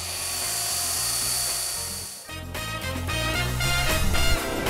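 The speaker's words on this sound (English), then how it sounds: "drilling for maple syrup right here on Salt Spring Island" A power drill bores into a maple tree for syrup tapping on Salt Spring Island, a loud, high whining drone that dips briefly, then restarts with a rougher, fluctuating buzz.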